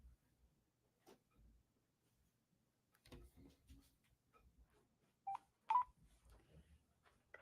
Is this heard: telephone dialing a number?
yes